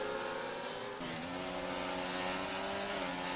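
McLaren race cars in a racing video game at Bahrain, engines screaming at high revs with a shift in pitch partway through, loud and continuous with no talk.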